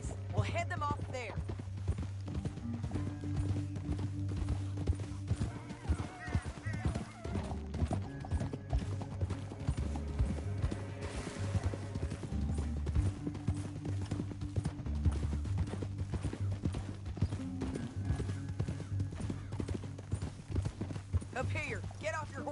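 Steady clip-clop of horse hooves trotting along in Red Dead Redemption 2, with occasional speech and a low musical backdrop.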